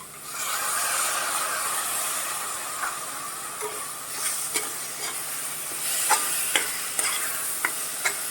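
Whole masoor lentils sautéed and stirred in a pan over medium gas for pulao, with a steady sizzle overlaid by a few sharp spoon scrapes and clicks toward the end.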